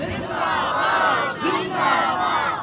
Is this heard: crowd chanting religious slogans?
yes